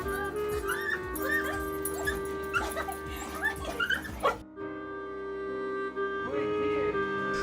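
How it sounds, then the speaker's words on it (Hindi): Excited dogs greet their returning owner with high, wavering whimpers, yips and short barks in quick bursts over steady background music, then they fall quiet briefly before a few more soft whines. "लड़की जब पूरे 1 साल बाद हॉस्टल से लौटी तो उसके कुत्ते मानो खुशी से पागल ही हो गए।"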